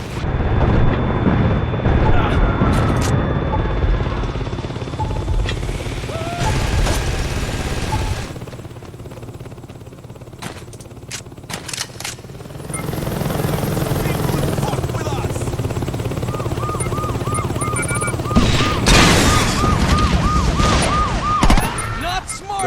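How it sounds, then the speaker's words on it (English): Attack helicopter in Saints Row 2 thunders with loud rotor chop amid sirens, explosions and gunfire, fading briefly mid-way before the din swells again. "They have an attack chopper."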